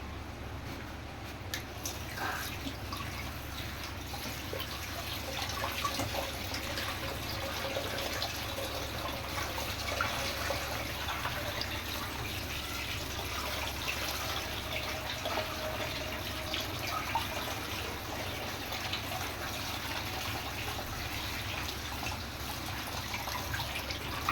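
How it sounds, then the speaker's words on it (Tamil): Cauliflower florets being rinsed in water, with steady splashing and trickling close by throughout, no voices over it. "2-3 தண்ணியில் நல்லா அலசிட்டு இதில் சேர்த்துடலாம்"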